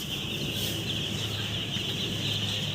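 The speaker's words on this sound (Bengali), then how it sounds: "অনেক মুরগি খাওয়া দাওয়া করতেছে অনেক মুরগি রেস্ট নিতেছে" Many three-day-old chicks on a poultry farm cluck and chirp together in a constant dense chatter, with a steady mechanical hum underneath.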